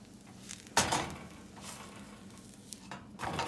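Tortillas cooking on a very hot, newly fixed cooking range, giving a faint steady sizzle with a sharp scrape or clatter near the start and a few softer knocks, fairly quiet throughout.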